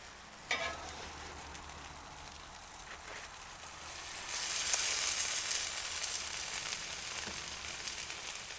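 Chili cheese dog quesadillas in large burrito-size tortillas sizzle steadily on a Blackstone griddle, a soft continuous frying hiss that swells louder midway, with a few faint clinks of a spatula flipping them.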